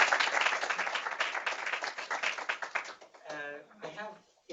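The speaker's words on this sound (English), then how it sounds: "round of applause for our" An audience at a medical talk on childhood eczema claps in a dense, steady round of applause that fades out, with a voice speaking briefly near the end.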